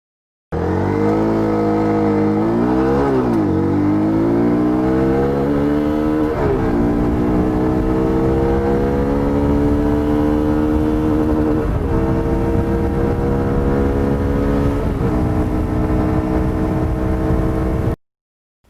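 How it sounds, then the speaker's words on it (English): Hero Xpulse 200 BS6 motorcycle engine accelerating hard through the gears toward top speed, a loud, steady close-up drone with rising pitch sweeps and brief dips at each gear change, sustained for about seventeen seconds. "Let's test the top speed."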